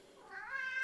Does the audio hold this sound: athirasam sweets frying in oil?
no